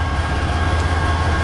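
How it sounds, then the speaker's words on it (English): A CN long-haul manifest freight train rolls past close by, a steady loud low rumble of wheels and rail cars that holds throughout without a break. "I hope I film the whole train."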